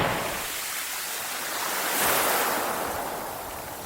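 Sea waves wash onto the shore at Eastbourne near the Redoubt Fortress, a steady broadband rush of surf swelling midway and easing off, close and loud with some wind.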